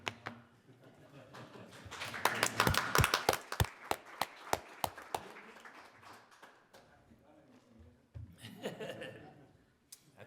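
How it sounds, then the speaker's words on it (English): Applause at a township and town reorganization meeting, scattered sharp claps building into a brief burst of clapping in a room, mixed with chuckles and voices talking. "That's why we're applauding."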